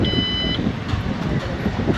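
A Vinfast Viper electric scooter sounds a short, clear electronic beep when located with its fob key, one bright tone lasting about half a second over loud outdoor rumble and chatter.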